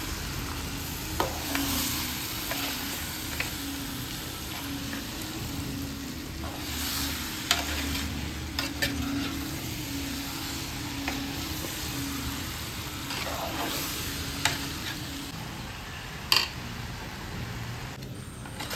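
Onions and chicken for a home-style Kerala chicken curry sauté in a pan. A steady sizzle continues throughout, broken by occasional sharp clicks and scrapes of a spoon against the pan, and no one speaks.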